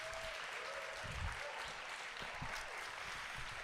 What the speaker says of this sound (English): Let's give another round of applause to all of our poets who competed here tonight.